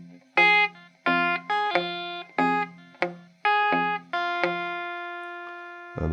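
Electric guitar plays the opening two bars of a rockabilly riff, a series of punchy picked chords and notes in a bouncing rhythm, close and alone, ending on a ringing sustained note.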